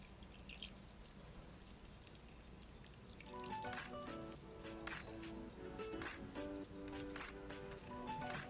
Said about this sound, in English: Now pour the tsukejiru in.